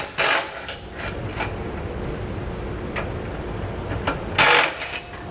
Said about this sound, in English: 1/2-inch socket, we're going to remove those 2 bolts and then remove this plate.